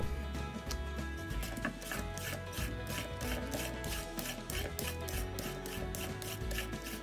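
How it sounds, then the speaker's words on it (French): A whole carrot laid flat is grated in steady, rhythmic rasping strokes that repeat at an even pace and stay close and clear throughout. "Puis on pose la carotte à plat et on va la râper."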